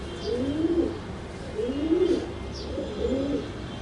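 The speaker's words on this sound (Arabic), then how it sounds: "من أحلى الحمام المصري الأصيل الحمام الغزار اللي على بياض" Egyptian pigeons cooing in a loft, three rolling, throaty coos repeating at a steady pace, close and clear, with faint higher chirps between them.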